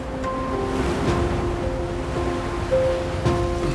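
Sea waves wash against the Hokkaido coast as a steady broadband surf, with soft tonal music running beneath it.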